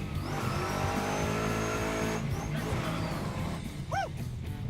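A hot rod with a 6.0L LS V8 accelerates hard on a closed course, a loud sustained engine roar near the listener with a short tire squeal toward the end.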